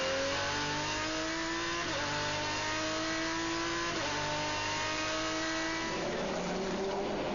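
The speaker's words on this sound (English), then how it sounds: "You could feel him easing the throttle open then." A GT race car engine in a 2001 FIA GT Super Pole run at Zolder, heard on board, climbs steadily in pitch through repeated rising pulls as the throttle opens, loud and continuous with no talk.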